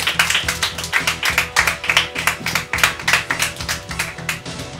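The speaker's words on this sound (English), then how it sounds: "A round of applause for him." Applause for the winner of a children's quiz game show, a steady rhythmic burst of clapping from a small studio group, close and fairly loud, rising and fading over several seconds.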